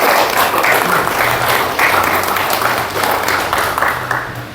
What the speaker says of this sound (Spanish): darles un fuerte aplauso de antemano